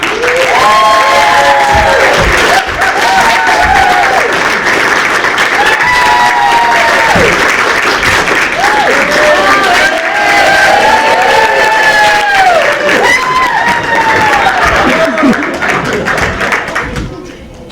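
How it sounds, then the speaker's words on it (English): A theatre audience at a stage performance breaks into loud, sustained applause with cheers and whoops rising over the clapping, holding strong for many seconds before fading at the end. "Please give a hearty round of applause for Dr. Watson, Jack Ryan."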